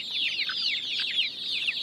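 Chickens and a rooster cluck busily at a Bangladeshi poultry and pigeon farm, a dense, continuous chorus of overlapping close calls with no talking.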